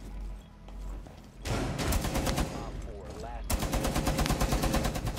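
Bursts of rapid gunfire in Rainbow Six Siege, likely a mounted machine gun: one long close burst, a short pause with a brief mechanical whir, then another sustained volley; a voice talks faintly early on.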